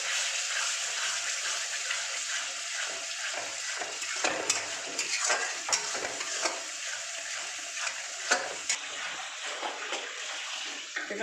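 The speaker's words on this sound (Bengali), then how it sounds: "ভালো করে এটাকে কষিয়ে নেব।" Katla fish head curry frying and being stirred in a pan, a continuous sizzle with scraping strokes of the spoon, close and steady throughout, with no voices.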